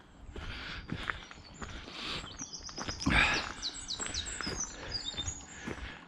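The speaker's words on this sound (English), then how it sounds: "loads of birds, as you can hear." Several birds chirp and trill in open countryside, quick rising tweets scattered over a soft outdoor background, with occasional rustling or footsteps nearby.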